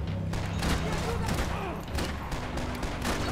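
Heavy volleys of gunshots from Max Payne 3, with thumping bursts of fire running continuously beneath game noise and faint speech.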